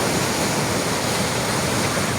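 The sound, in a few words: floodwater rushing down from hills after heavy rain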